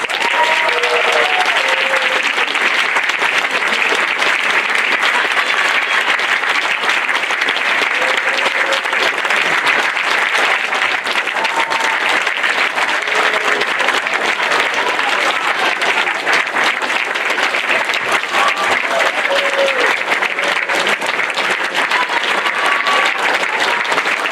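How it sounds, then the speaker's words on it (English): Audience applause for nursing graduates at a 2022 Blue & Gold Bachelor of Science ceremony: a loud, dense, sustained ovation that holds steady without pause for the whole stretch. "Let's give these students a last round of applause."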